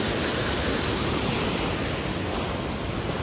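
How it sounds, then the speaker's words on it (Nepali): A swollen, rising mountain stream rushing past close by, a dense unbroken roar of water with constant loud hiss and no talk. "खोला खेल्दा खेल्दै यसरी खोला बढेर आयो।"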